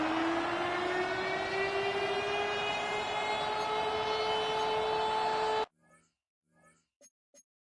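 A big red stadium siren wails at State Farm Stadium in Glendale, Arizona, before an NFL game: a loud, steady rising tone with layered harmonics holding for about five seconds, then cutting off into a few faint crowd bursts.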